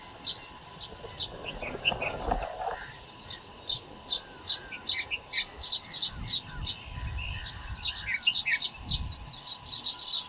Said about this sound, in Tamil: குருவி கத்துற சவுண்ட்லாம் பா கேளுங்க